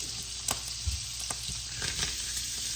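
Meat browning in a pan for a Depression-era poor man's gravy, with a steady close sizzle and frying hiss broken by a few soft stirring knocks and scrapes.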